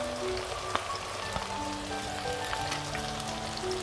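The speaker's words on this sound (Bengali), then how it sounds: "এবারে পেঁয়াজটা আমি ভালোভাবে কষিয়ে নেব, ব্রাউন কালার যতক্ষণ না হচ্ছে।" Chopped onions frying in a pan for a Bengali chicken curry give off a steady, dense sizzle with faint crackles throughout, close and continuous with no talking.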